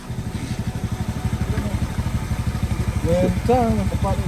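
A motorcycle taxi in Bali pulls away, its engine chugging in a steady, fast low pulse close by, then revving higher as it leaves, with voices talking over it.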